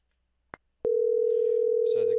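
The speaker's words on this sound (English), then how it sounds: "So as you can see, the phone is ringing," CUCM IP phone call: a click and a brief tone, then a steady continuous call-progress tone, with a short burst of voice near the end.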